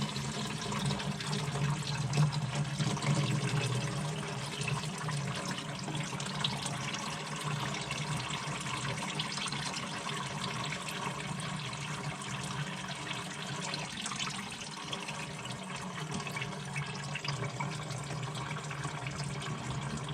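Engine coolant drains from a car in a steady, continuous splashing trickle, close and even for the whole stretch with no talking.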